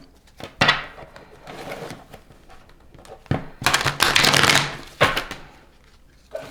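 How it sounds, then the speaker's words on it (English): Tarot cards being shuffled by hand, a series of riffling bursts and soft slaps of varying length, close and fairly loud, with no talk. "these cards flew out, but I'm going to keep shuffling"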